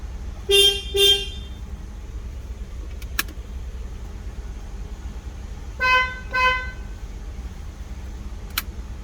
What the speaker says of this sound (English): I thought we had promised to try those horns out.